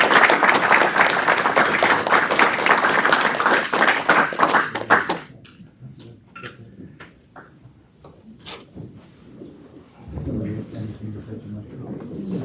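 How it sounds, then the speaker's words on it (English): A keynote panel audience applauds for Randy Flynn, a burst of loud clapping that ends abruptly after about five seconds, followed by quiet room sounds, scattered taps and then talking. "So one more round of applause for Randy."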